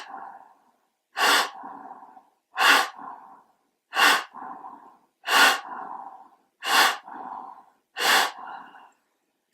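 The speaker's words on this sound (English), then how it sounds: "You've got the ANS balanced breath, the Kapalabhati." Kapalabhati yogic breathing practice: seven sharp, forceful nasal exhalations spaced about every 1.3 seconds, each followed by a softer passive inhale, close and clear with no talking.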